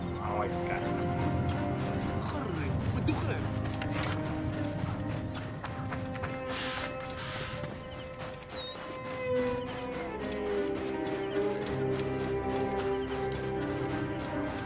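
Horse hooves clip-clop in the Skyrim video game, a steady rhythmic clatter under game music, with a voice talking over it.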